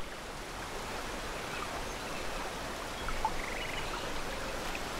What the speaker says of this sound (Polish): A co to za jakiś wodospad?